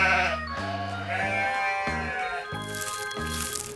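A lamb or sheep bleats several times in a row, clear and close, with a quavering, wavering tone between short pauses.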